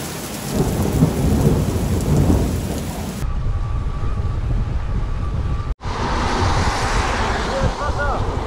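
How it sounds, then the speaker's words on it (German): Rain and a thunderstorm roll in over a roadside during a bikepacking ride from Berlin toward Poland. Steady, loud rain hiss and thunder rumble are joined by a sudden burst of heavier downpour partway through, with voices talking over it. "Krass, drüben auf der anderen Straßenseite regnet es einfach. Jetzt kommt's zu uns."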